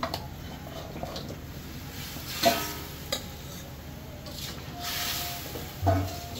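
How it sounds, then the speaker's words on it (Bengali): Chicken pieces are added to bubbling curry gravy in a home kitchen pot, giving a low simmering hiss with a few soft splashes and stirring knocks near the end. "ঝোলে বলক এসে পড়ছে, তো এই যে এখন মাংসগুলো দিয়ে দিব"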